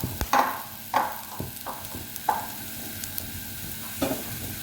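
Chopped beetroot for an Onam pachadi fries in a little oil in a pan, with a soft, steady sizzle broken by several sharp spoon-stirring clatters.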